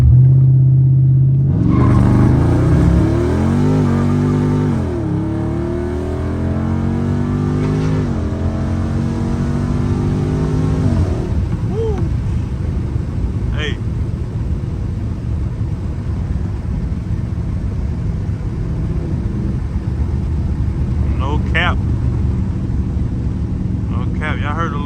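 Dodge Charger Scat Pack revving hard on launch control at 2,000 RPM, a loud, close, rising and falling engine roar that settles into a steady rumble, with a few brief higher squeals and talk underneath.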